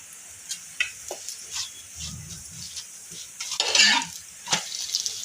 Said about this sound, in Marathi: आता आपण ह्याला पण दुसऱ्या बाजूने तेल लावून घेऊयात, ह्या चपातीला पण